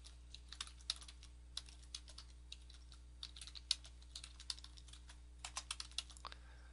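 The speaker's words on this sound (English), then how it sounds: "So you type in your web address," Quiet, light keystrokes on a computer keyboard while a web address is typed, irregular clicks and short bursts over a low steady hum.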